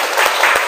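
Students in a classroom burst into a short, dense patter of clapping hands, loud and close, lasting under a second.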